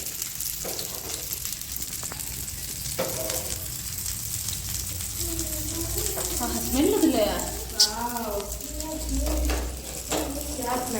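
Fish frying in oil on a tava, a steady sizzle running throughout with occasional stirring scrapes; voices talk over it midway, with a sharp clink near the end.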